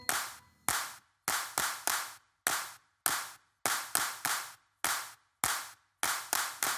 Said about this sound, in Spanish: Esta última vez, solo aplaudan.